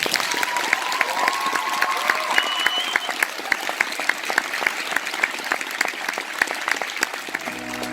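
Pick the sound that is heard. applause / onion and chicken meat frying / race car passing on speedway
applause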